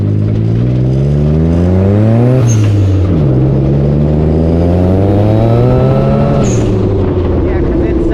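A K03-turbocharged Mitsubishi 3A92 engine in a trail buggy revs up hard twice, rising pitch climbing and dropping back, loud and close throughout with a turbo whine over the engine roar.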